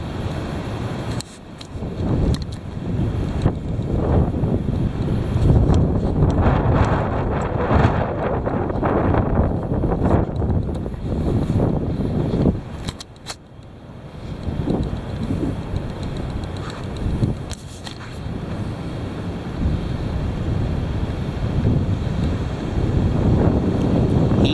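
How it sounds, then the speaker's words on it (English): Heavy wind roars steadily across the microphone for the whole stretch, loud and buffeting, with brief lulls and gusts that swell again. "Here it comes. The heavy wind."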